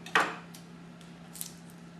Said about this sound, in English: cutting the onion through that